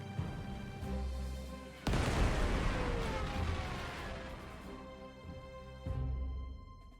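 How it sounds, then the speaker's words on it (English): A fort is bombed in the war strategy game Panzer Corps 2, landing as one heavy, sudden blast with a long rumbling decay, followed a few seconds later by a second, smaller thump. "let's bomb the fort."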